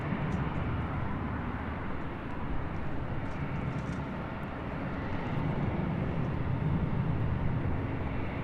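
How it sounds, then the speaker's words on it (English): Avelo Airlines Boeing 737-800 taking off from the south side at LAX, a steady, broad jet roar that holds loud and even throughout with no voices. "This is Avelo Airlines 8480 taking off. They're on the south side to Detroit. It's a 737-800."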